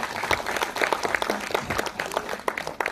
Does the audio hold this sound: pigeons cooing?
no